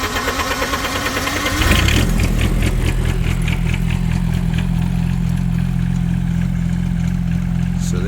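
Diesel engine on a hot day, cranked after the glow plugs warm, with a short burst of starter noise that catches and settles into a loud, steady, knocking idle, close up and alone.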